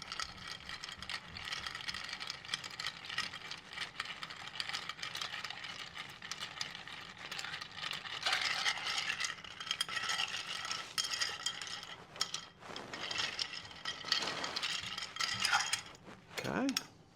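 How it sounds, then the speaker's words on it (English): A Manhattan cocktail is stirred over ice, producing a continuous quiet rattling and clinking of ice against the glass that churns steadily for a long stretch, with a few sharper knocks near the end. "I'm going to give this a good stir."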